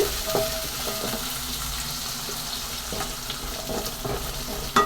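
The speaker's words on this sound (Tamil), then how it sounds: "இந்த கால் கிலோ பூண்டும் நல்ல நல்லெண்ணெயிலே வதக்கட்டும்" A quarter kilo of garlic sautés in sesame oil for a garlic chutney, hissing in a steady close sizzle with a few soft stirring clicks.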